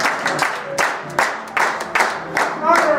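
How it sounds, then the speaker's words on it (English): Audience clapping at a stage musical performance, coming in distinct loud bursts of applause roughly every half second, with voices mixed in between the claps. "Thanks for the applause, but it's really not enough."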